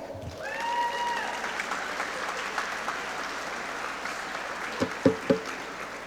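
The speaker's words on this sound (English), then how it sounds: "give the athletes applause" Sustained applause from the crowd at a 2021 high school athletic banquet, honoring the athletes, a steady wash of clapping lasting several seconds with a few louder claps standing out near the end.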